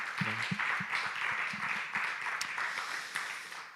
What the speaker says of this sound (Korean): 우리 목장 리더들 위해서 수고 많다고 우리 박수로 격려하겠습니다